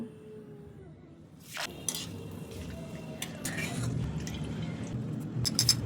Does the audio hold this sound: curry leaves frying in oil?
yes